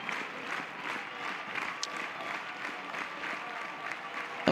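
At a college softball game between Houston and Oklahoma, the stadium crowd stands and cheers, a broad, sustained roar of clapping and shouting heard from a distance with no talk over it.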